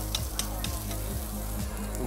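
Shrimp and scampi sizzle steadily in a pan with zucchini, a close, continuous frying crackle with rhythmic stirring or scraping strokes repeating about every half second, with no voices.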